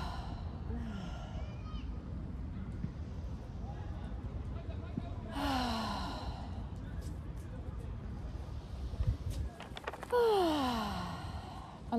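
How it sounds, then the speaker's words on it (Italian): Deep breaths exhaled through an open mouth during an energy-medicine yoga practice, with three long audible outbreaths over steady background noise and brief spoken guidance between them. "3 respiri così, la bocca aperta mentre espiro."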